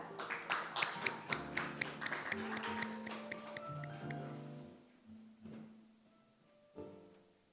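Applause for the Azerbaijani ambassador at the opening ceremony of a Korea–Northern cultural strategy forum, with sharp close claps that start dense and thin out, ending in scattered late claps while low tones linger.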